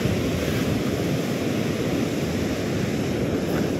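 Ocean waves break in a loud, continuous roar that fills the scene, with heavy wind rumble and no voices.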